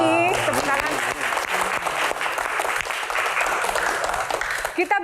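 Applause from a seated audience at an Indonesian disaster-management Q&A event, a full clapping crowd that swells and continues under an excited host's voice, with cheering mixed in.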